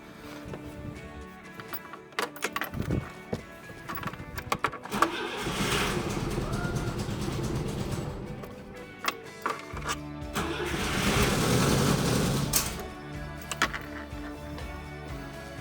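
A Citroën GSA engine with a freshly reset carburettor choke cranks in several short, sputtering bursts, then catches and rises to a steady running idle with revving swells, fairly close.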